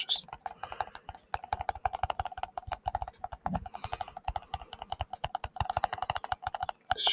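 Rapid tapping and typing on the top of a mechanical keyboard, a steady run of sharp, fairly loud clicks with irregular rhythm that carries on nearly without pause, recorded close up; a voice talks intermittently over the keystrokes.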